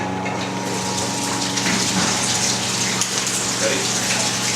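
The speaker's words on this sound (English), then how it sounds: "We're going to shoot the water through here." Water gushes through a pipe and valve rig set up to show water hammer in a tee, a loud, steady rushing flow that runs without a break from start to finish.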